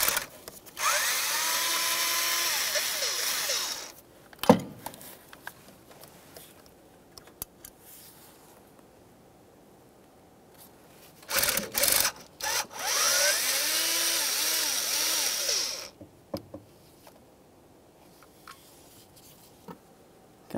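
A power driver backs out two T15 Torx screws from the distributor rotor of a 1999-2006 Chevrolet Silverado 1500 4.3L V6, in two loud whirring bursts separated by quiet clicks and handling.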